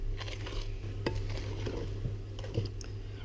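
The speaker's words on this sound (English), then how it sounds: "And we're just going to fold that through." A spoon or spatula folds self-raising flour into cake batter in a bowl for a chocolate blackout cake, giving soft close scraping and stirring with a few light clinks against the bowl and a steady low hum behind.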